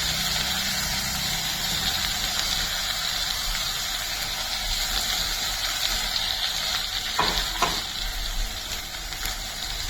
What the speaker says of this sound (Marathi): हे जे वाटण तयार केलेलं आहे ते वाटण आता ह्यात घालून छान तेलावर असं परतून घ्यायचं आहे